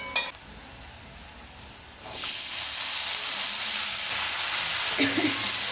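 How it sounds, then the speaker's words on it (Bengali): Potatoes frying in a pan after onion, chili and cumin powder, a quiet stir for two seconds, then a loud, steady broadband sizzle that holds throughout with a brief clatter near the end. "এবার আলুটাকে ভাজতে হবে।"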